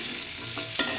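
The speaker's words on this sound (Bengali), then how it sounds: "আমি প্রত্যেকটা তরকারি আলাদা আলাদা করে ভেজে নিচ্ছি।" Pieces of drumstick vegetable fry in hot oil while cooking a mixed-vegetable shukto, giving a steady, close, broadband sizzle for about a second with a brief louder crackle near the end and no talking.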